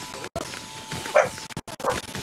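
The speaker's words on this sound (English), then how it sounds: "there goes my dog. Another dog barked outside." A dog barks outside, a few short barks set against a noisy indoor background with brief gaps of silence, moderately distant and not very loud.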